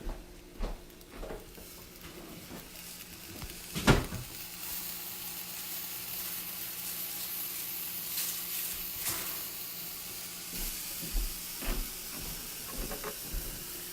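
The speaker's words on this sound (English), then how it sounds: "So I'm gonna go ahead and start these up kind of at a medium to high heat. Get that vegetable stock going." Diced peppers cook in a pan with vegetable stock over medium-high heat, a steady soft sizzle and hiss with occasional sharper pops and clatters, close by and fairly quiet.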